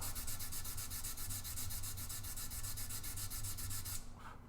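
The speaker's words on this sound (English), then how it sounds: "So now I have to sand it all back." Sandpaper rubs back filler on a handmade guitar body in steady, rapid back-and-forth strokes, close and continuous for about four seconds before stopping abruptly, with no talking.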